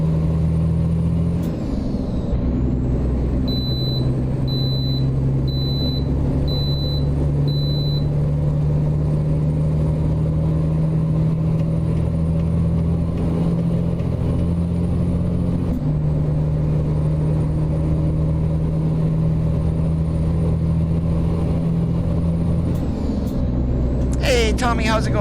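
An International LoneStar truck in American Truck Simulator, with a steady low diesel engine drone and sharp bursts of air brake release near the start and end, plus a faint chiming tone.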